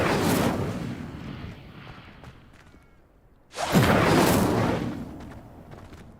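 A fire spell cast in the Hogwarts Legacy game: a loud, sudden whooshing burst of flame flares up about midway and roars for a couple of seconds before trailing off, following an earlier rushing blast of effects.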